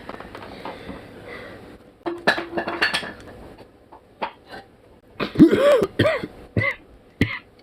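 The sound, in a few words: coughing and throat clearing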